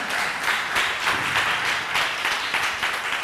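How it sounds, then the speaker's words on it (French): A large audience at a university structured-debate championship quarterfinal applauds the candidates with loud, dense, continuous clapping that holds steady throughout. "Je vous demande d'applaudir très très fort les candidats"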